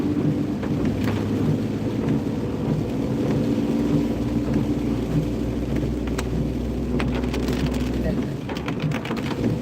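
Steady rain during a rainy ride through the countryside in a vehicle, a dense continuous wash with a low rumble underneath, close and even throughout.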